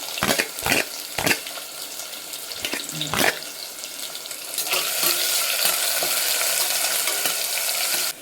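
A few clattering knocks give way to a steady, loud sizzle of onions frying in hot oil with fennel seeds for mutton curry, close and continuous.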